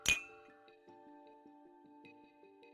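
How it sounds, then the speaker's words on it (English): Ice cubes clink inside a whiskey glass being shaken in the game Love and Deepspace, a sharp first chink followed by several softer, ringing taps spaced irregularly over a quiet background. "The ice cubes swish around, making soft clinking sounds."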